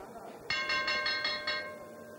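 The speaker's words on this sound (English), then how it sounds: "the gong goes for the start of this match" A ringing gong signals the start of a 1983 tag-team wrestling match, struck in a quick series of about six bright metallic rings over arena noise, with the tone lingering and fading afterward.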